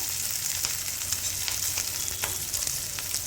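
Chopped ginger and green chilli sizzle and crackle steadily in hot oil while being stir-fried, with a continuous close frying hiss and small pops throughout.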